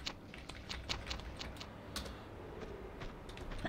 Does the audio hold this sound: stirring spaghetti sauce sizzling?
no